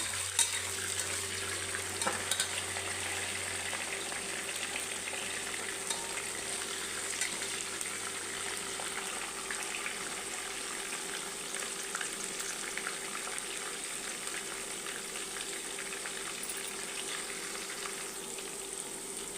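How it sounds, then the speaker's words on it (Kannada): Onions and soaked peas fry in a pan with a soft, continuous sizzle and hiss that runs evenly throughout at low volume, with no talking. "ಸ್ವಲ್ಪ ಫ್ರೈ ಆಗಲಿ ಈರುಳ್ಳಿ ಬಟಾಣಿ ಎಲ್ಲನ."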